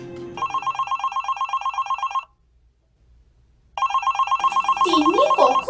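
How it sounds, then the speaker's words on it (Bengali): Telephone bell ringing in rapid trilled bursts, close and loud, stopping for a pause of over a second and then ringing again while a voice begins over it near the end. "কখন থেকে ফোনটা বাজছে, দিতে তো পারিস একটু কাছে গিয়ে"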